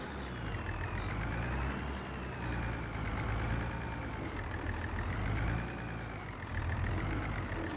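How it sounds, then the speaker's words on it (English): Pickup truck driving in Farming Simulator 25, a continuous engine drone whose pitch gently rises and falls as it revs, steady and close with no talk. "the pickup truck to go get water."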